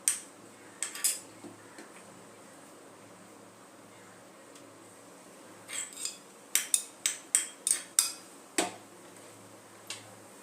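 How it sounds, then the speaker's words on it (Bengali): A spatula stirring chana masala with ginger and whole green chillies in a pan: sharp metallic scrapes and clinks, sparse at first, then a quick rhythmic run of strokes, with faint sizzling underneath. "একটু নাড়িয়ে নেব।"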